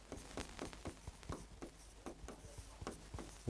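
Pen scratching on paper as notes are taken in a physics lecture, a quick run of short strokes and taps, close and faint, with no talk over it.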